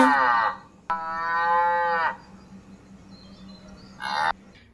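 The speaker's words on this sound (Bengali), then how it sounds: "কখন থেকে গরুটা ডাকছে" A cow on a household farm moos loudly three times, a short call at the start, a long drawn-out low in the middle and a brief call near the end, with quiet pauses between.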